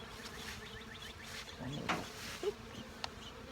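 Honeybees buzz softly around an open hive during a hive check, a faint steady hum with scattered louder passes and a few light knocks of handling close by.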